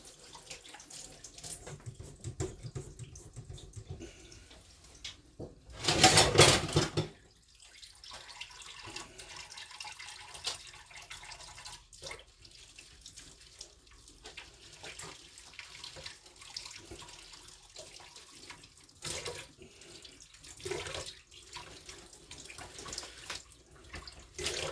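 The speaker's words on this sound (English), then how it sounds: "I'll wash my hands." Hands washed under a running kitchen tap after handling a raw turkey, a steady stream of water splashing into the sink with a brief louder gush partway through, then continuing softly with small splashes and handling noises.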